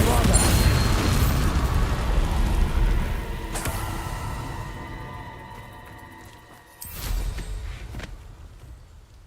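A Bombarda spell explodes in the wizarding game Hogwarts Legacy, a loud broad blast with a long rumbling decay and ringing tones, followed by another booming burst a few seconds later.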